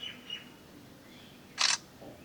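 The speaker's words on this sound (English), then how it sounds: "When it shows effect ready, just press shutter button." Shutter click of a Samsung Galaxy A03s phone camera taking a background-blurred photo, one short bright burst standing alone in a quiet room, with faint chirpy tones before it.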